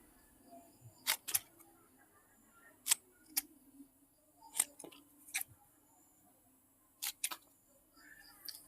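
A sharp cutter snipping extra leaves off a begonia cutting, a handful of crisp separate clicks spaced apart over a quiet background.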